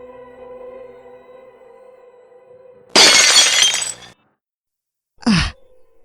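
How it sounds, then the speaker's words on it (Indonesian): A window broken by force gives a loud glass shatter with a spray of falling shards lasting about a second, then a short second crash of glass, set against a quiet tonal musical drone. "menggunakan sisa tenaganya untuk membobol jendela tersebut"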